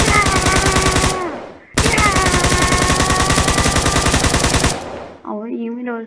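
Rapid automatic gunfire from a gun mod in Minecraft version 1.10.2, two long loud bursts of evenly spaced shots separated by a short gap, followed by a brief warbling electronic tone.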